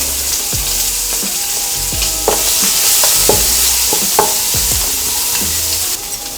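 Carrot pieces fry in hot oil while being stirred for Indonesian mi goreng, a steady loud sizzle broken by repeated sharp scrapes and knocks of the utensil against the pan.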